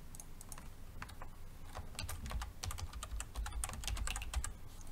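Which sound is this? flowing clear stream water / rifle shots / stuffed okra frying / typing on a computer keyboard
typing on a computer keyboard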